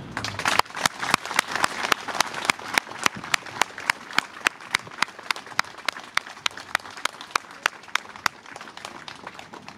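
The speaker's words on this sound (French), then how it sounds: "Et je vous demande ici de les applaudir vivement pour marquer notre soutien." At an outdoor July 14 ceremony in Chevigny-Saint-Sauveur, a crowd applauds the police, a thin, steady patter of evenly spaced claps that sound somewhat distant and soft, with no talk over them.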